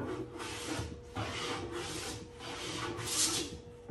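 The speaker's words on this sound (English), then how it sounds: "I'm taking these super fine shavings" A freshly oiled hand plane shaves super fine curls off a wooden board, a series of rhythmic rasping strokes, each a short swishing scrape, repeated close up with brief pauses between passes.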